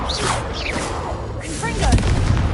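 In Hogwarts Legacy, the Confringo explosion spell goes off as a burst of fiery blasts and rumbling booms, threaded with whooshing, sparkling magical chirps, all fairly loud and close.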